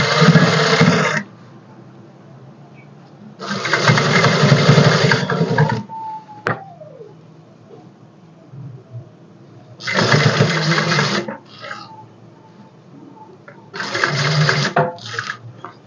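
Sewing machine stitching piping over lace on a fabric patti neck design, running in four loud steady bursts of humming whir with quiet gaps between, close by and without speech.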